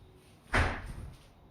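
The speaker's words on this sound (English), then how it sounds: "You just close this door properly." A door shuts with a single sharp thud, followed by a short fading rattle against a quiet room.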